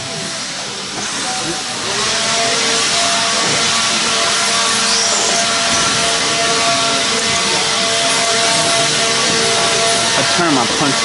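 A blower clearing dirt off an RC buggy race track sends out a loud, continuous rushing hiss that swells after a couple of seconds and then holds steady, close by and unbroken.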